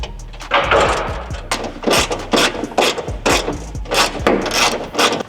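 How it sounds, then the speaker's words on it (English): Ratchet tightening nuts that fix a rear spoiler to a Subaru WRX, giving close, loud bursts of rapid clicking in repeated strokes with brief pauses between, and no talk. "Once you fish through all the washers and your nuts, just tighten it down."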